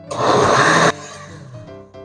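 A kitchen blender whirs loudly for about a second while blending red salsa for chilaquiles, then cuts off abruptly, leaving a fading motor hum.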